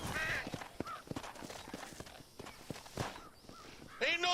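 Horse hooves clip-clop at a walking pace while riding in Red Dead Redemption. The thuds are moderately close but soft and sit under intermittent talk.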